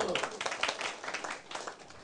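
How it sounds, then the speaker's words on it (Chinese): An audience claps briefly on request during a political lecture, a short burst of scattered hand claps mixed with voices talking over it. "好，拍手"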